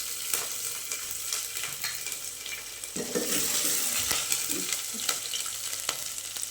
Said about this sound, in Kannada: ಮೆಣಸಿನ್ಕಾಯಿ ಹಾಕ್ಕೊತಾ ಇದ್ದೀನಿ.